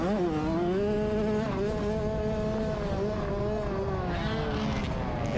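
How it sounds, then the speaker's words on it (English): Race car engine droning along a straightaway at a Wayne County fair race, a steady buzzing tone with harmonics that waver slightly in pitch, heard continuously at moderate distance without a gear change. "let's really listen to the engine noise on this straightaway here"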